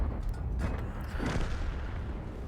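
A tank gun firing in the video game World of Tanks with the STB-1 tank, a heavy boom followed by a second blast, then a lingering rumble.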